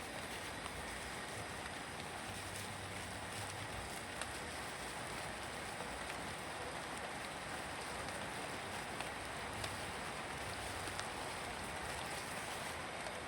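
Soft, continuous patter of light rain on a surface, steady and even throughout with no talking.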